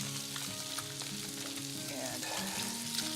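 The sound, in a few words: baby bok choy sizzling in olive oil in pan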